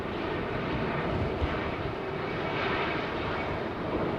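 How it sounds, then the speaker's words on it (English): An Icelandair Boeing 757 jet taxiing out for departure at London Heathrow Airport makes a steady broadband engine roar, heard at a distance and holding constant throughout. "Paul Skilling, the Icelandair 757, is heading out for departure."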